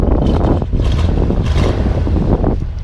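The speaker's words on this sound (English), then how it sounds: "Go ahead and rev it up again." A 1975 International Harvester engine revs up with a loud, steady, rumbling roar, heavy low-end exhaust noise sustained throughout with slight swells, captured close up outdoors with wind buffeting.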